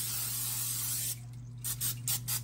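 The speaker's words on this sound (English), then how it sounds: "I'm using this Pam spray." Pam cooking spray hisses onto a pan in one continuous burst of about a second, close and steady, then stops, leaving a faint background hum and a few soft clicks.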